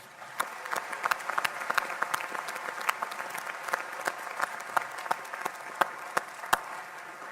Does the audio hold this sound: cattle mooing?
no